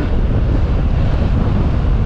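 A strong headwind buffets a cyclist on a gravel bike along a cycle path, a loud continuous roar of wind noise with no breaks.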